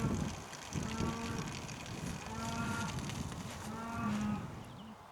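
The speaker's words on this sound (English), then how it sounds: "I'd managed to get away from the attentions of the cattle after they tried to photobomb me" Cattle lowing in a field during a rabbit hunt, several deep, drawn-out moos repeating close by at an unhurried pace, with rustling outdoor background and no talk.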